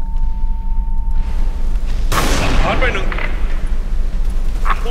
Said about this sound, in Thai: เสียงสไนเปอร์แน่นไหมครับ